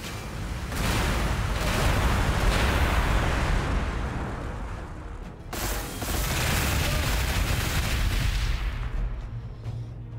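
Rapid bursts of gunfire and heavy artillery-like blasts from units shooting in the Warhammer 40,000: Gladius strategy game, loud and continuous with mechanical clatter, briefly dipping mid-way before resuming.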